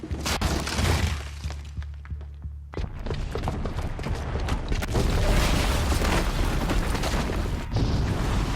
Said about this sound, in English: Bomb downstairs is gonna get set off.